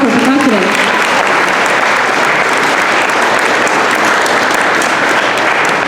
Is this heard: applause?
yes